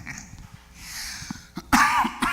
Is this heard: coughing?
yes